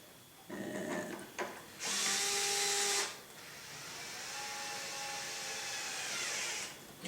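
A power driver sets screws into the frame of a Trex 700E PRO DFC RC helicopter, with close short whirring bursts, then one long steady run, and no talk.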